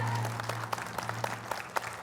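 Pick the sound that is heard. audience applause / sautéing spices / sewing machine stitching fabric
audience applause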